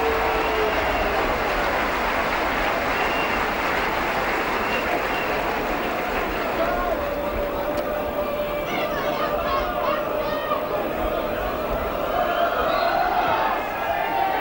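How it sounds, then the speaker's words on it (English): A large rugby league crowd at Headingley applauds Barrow's players, a broad, steady wash of distant clapping and murmur holding for many seconds, with occasional voices above it. "a good round of applause for Barrow as they come back"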